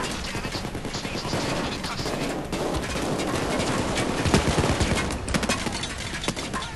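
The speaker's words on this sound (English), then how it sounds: "I'm just opening fire right now." Rapid, dense bursts of gunfire from the video game Payday 2 crackle continuously at moderate loudness, overlapping one another with sharp impacts scattered throughout.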